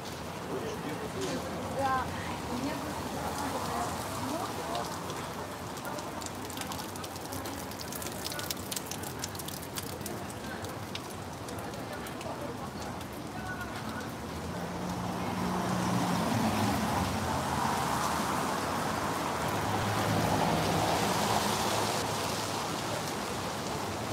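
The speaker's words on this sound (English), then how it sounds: "heavy rain, shorter rain." Heavy rain pouring in St Petersburg, Russia, a thick continuous wash of drops that swells louder in the second half, with faint passing traffic and a voice talking at moments.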